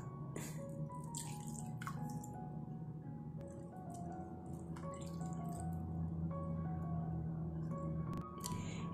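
Water is poured into rice flour in a pan, giving a steady trickle with soft drips and squishy sounds, continuous and fairly quiet for several seconds.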